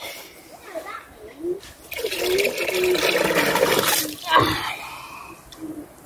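Pumped water gushes out of a garden duck pond in an organic garden after a switch is flipped, a steady loud splashing rush lasting several seconds, with children's voices and other speech around it.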